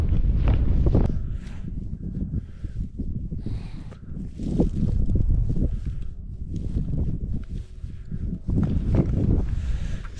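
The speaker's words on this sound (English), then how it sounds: "It'd be nice to get out of the wind because it's freezing up here now." Gusty wind buffets the microphone on a cold, steep mountain descent through heather in Ennerdale, low rumbling roar with bursts, mixed with trudging footsteps close by.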